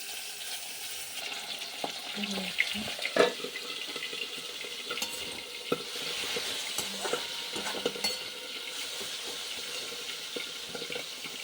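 Fenugreek greens fried in a pan without garlic or onion, giving a soft, continuous sizzling hiss broken by scattered scrapes and clicks of stirring, with no voices.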